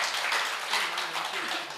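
Dense, steady applause from the audience at an Arya Samaj poetry gathering (kavi sammelan) for the poet, a continuous wash of clapping throughout the brief moment.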